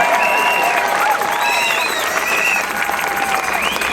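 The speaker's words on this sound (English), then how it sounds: "Clap, clap, clap." Crowd at an outdoor freedom protest in Adelaide applauding and cheering steadily, a continuous wash of many hands with whistles and shouts rising above it throughout.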